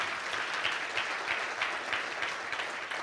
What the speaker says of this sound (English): Can we get a round of applause for both Gary and Kathy?